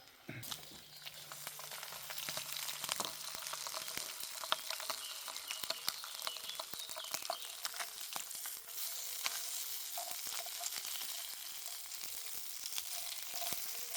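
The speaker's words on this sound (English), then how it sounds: "we've got to get a sizzle on and then we get the eggs in" Faint, steady sizzling and spitting of bacon and eggs in a frying pan outdoors in the woods, continuous crackle with occasional sharper pops, no voices.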